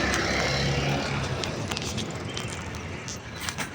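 Continuous road traffic roars along the Andaya Highway, a dense, steady wash of passing vehicles close by with no clear gaps or voices.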